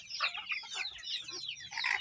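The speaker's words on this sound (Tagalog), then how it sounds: "Rehoming na itong ating mga alagang manok ngayon." Pet chickens cluck continuously in soft, overlapping chatter, a small flock heard close but fairly quiet, with no talking.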